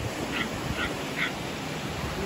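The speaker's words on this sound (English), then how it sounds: "He ain't stopped barking yet." A dog gives three faint, evenly spaced whimpering yips over a constant hiss, with no talk.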